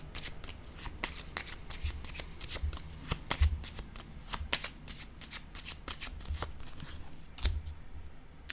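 Tarot cards being shuffled by hand, a steady run of crisp riffles and soft flicks close by, repeating through the whole stretch with no voice over it.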